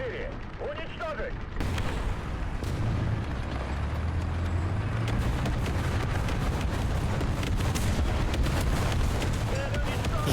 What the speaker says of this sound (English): Артиллерия, координаты Д-4. Уничтожить!